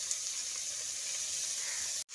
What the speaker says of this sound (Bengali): পেঁয়াজটা একটু গোল্ডেন বাদামি না হয়ে আসছে ততক্ষণ পেঁয়াজটাকে এভাবে ভেজে নেব।